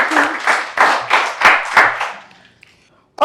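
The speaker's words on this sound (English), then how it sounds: "A round of applause for them." An audience on a couples game show claps in rhythmic bursts for a couple, about six strong rounds of clapping that fade out, then a loud sound at the very end.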